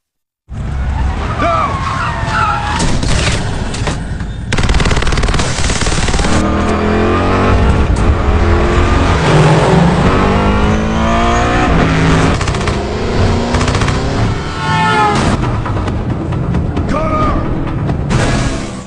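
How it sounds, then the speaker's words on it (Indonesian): A film action scene with a gunfight during a pickup truck race: revving engines, skidding tyres and bursts of gunfire over loud score, with shouting voices scattered through the chase. "ternyata mereka telah diikuti oleh Gunner yang berkhianat dan baku tembak pun dimulai"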